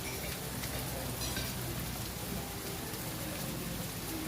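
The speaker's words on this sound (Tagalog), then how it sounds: "Maulan na hapon." Steady rain falls on a wet afternoon outside a restaurant in Perlis, a dense continuous hiss with patters of drops, fairly loud and even throughout with no talk.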